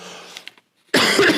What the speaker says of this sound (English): Sorry, my coughing